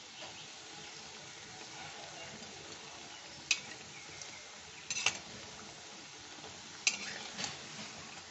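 Food frying in a pan until reddish gives a soft, steady sizzle and hiss. A few brief utensil clinks sound over it.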